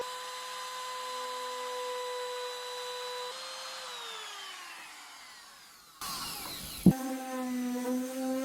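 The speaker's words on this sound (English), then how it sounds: "I've got my clear view attachment on my Katsu router. I've got straight cut bit, and I'm just gonna take these out as neatly as I can." A Katsu router with a straight cut bit and clear view attachment spins up with a whining motor tone that winds down, then bites into pallet wood with a sharp jolt and a rough, buzzing cut.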